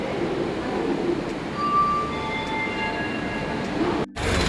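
A train runs at Bangalore railway station with a steady, loud rumble. Faint high tonal whines and light clinks sit on top, and the sound cuts off abruptly near the end.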